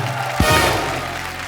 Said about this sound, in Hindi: जोरदार तालियां एक बार ऋषि सर के लिए।